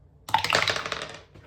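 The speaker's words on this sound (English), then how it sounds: "Throwing the dice." A pair of dice is tossed onto a tabletop and rattles in a quick burst of close clicks and clatter that fades within about a second.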